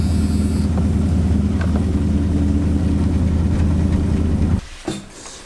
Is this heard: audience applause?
no